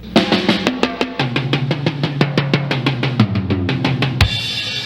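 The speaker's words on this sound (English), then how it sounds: "you take the 16th note triplets and split them up with the toms like this" A sixteenth-note triplet drum fill of rapid, evenly spaced hits rolling across toms, descending in pitch, ending with a crash cymbal; loud and close with no voices.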